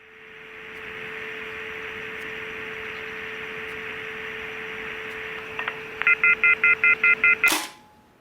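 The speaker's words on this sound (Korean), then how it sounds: "이건 애들이 없어진 지 2달 만에 종호한테서 걸려온 전화입니다." A telephone line hisses and hums steadily, then a rapid run of about eight short dial tones beeps near the end before a sharp click cuts it off.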